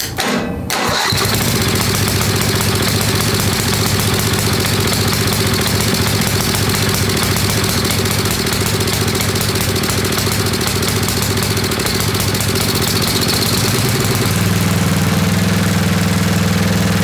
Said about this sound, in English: we're getting a little bit of backfiring